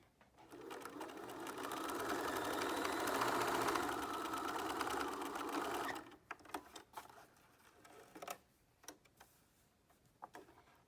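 A sewing machine runs a straight stitch on face mask fabric, a fast steady whirring burr for about six seconds, then stops, leaving scattered clicks and handling noises.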